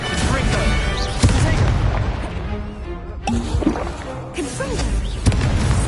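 Confringo blasting spells explode repeatedly in Hogwarts Legacy, heavy booming impacts with crashing debris, several hits in a row, loud and close, with a voice speaking over the game sounds.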